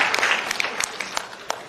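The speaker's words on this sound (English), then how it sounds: "That's a good place to clap right there." Scattered, thin clapping from a small audience at a live podcast summit talk, a few distinct claps popping out over a soft patter and fading quickly.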